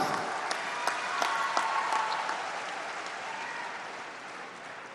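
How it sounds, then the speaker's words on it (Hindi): Broad crowd applause at a state employment-day gathering, an even roll of many hands clapping, fairly distant, with a few sharper claps standing out early and the sound slowly thinning. "अरे इस पे जोर से ताली बजाओ।"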